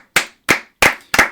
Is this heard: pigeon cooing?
no